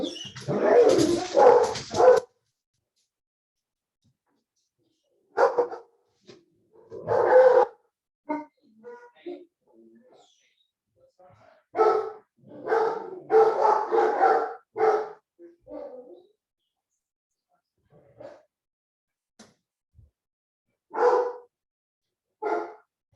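Dogs bark in loud, close bursts of several yaps, separated by stretches of silence, with some shorter, fainter barks scattered between the louder volleys.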